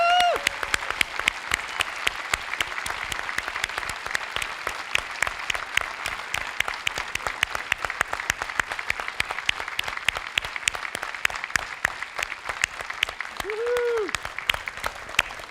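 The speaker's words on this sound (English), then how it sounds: "would everyone please join Les and I one last time in giving them a huge round of applause for all their accomplishments" A large audience at a broadcasters hall of fame ceremony gives inductees a long, steady round of applause, with a brief voice near the end.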